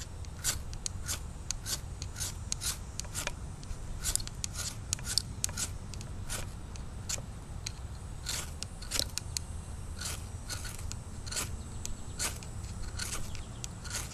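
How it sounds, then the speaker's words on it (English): A fire steel struck repeatedly outdoors to throw sparks onto a sawdust pile, a steady run of sharp, close scraping strikes in quick rhythm over light wind. "I have a smaller fire steel, but I notice it really doesn't throw enough sparks to do a sawdust pile like this."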